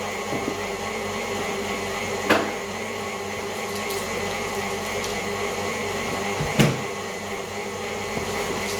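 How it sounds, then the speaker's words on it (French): A small food processor runs steadily, mixing a light gluten-free galette batter with yogurt, a constant mid-level motor whir broken by two sharp clatters of tidying nearby. "Je laisse mon robot mélanger et je range un petit peu pendant ce temps-là."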